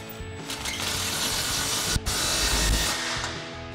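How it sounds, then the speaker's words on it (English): Impact wrench with a 13 mm socket tightening an exhaust clamp on a Silverado 1500: one continuous loud, rapid hammering rattle held for several seconds, with a brief pause and pitch dip midway before it resumes. "Now we'll go ahead and tighten down our clamp here using our 13 mil socket on our impact."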